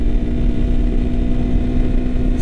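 A Yamaha TW200 motorcycle cruises in top gear at about 55 mph on the street, its engine droning steadily and loudly throughout with a constant hum and wind rumble, no talk over it.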